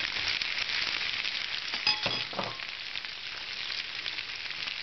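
Onion and capsicum fry steadily in cooking oil in a pan for a vegetable sauté, giving a continuous close hiss with a few faint clinks partway through and no voices.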